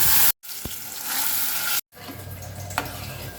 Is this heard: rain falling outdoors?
no